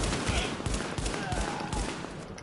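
Rapid gunfire bursts in a PS4 shooter game, The Division, repeated sharp shots in quick succession throughout, loud and close.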